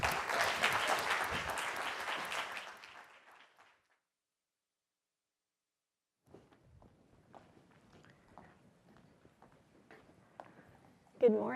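An audience at a colorectal cancer research talk applauds to welcome the speaker, with warm clapping that fades out into silence, followed by faint footsteps and small shuffling sounds.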